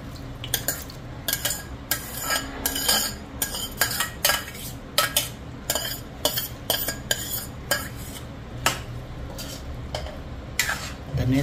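Cooked mutton being added to and stirred into a masala of spices in oil, close rhythmic scraping and clinking of a spoon against the pot at a steady pace over a low sizzle, with no talk.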